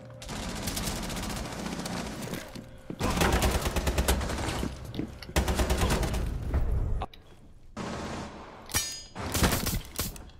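Loud gunfire in a tactical shooter match played as Caveira arrives in several dense, rapid bursts separated by short quiet gaps, sharp and close, with no voices over it.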